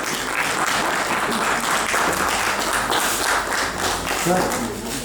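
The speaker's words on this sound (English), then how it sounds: "Everyone please give a big round of applause." An audience at a press release in Delhi applauds steadily, a dense, sustained wash of clapping that holds at an even level from start to finish.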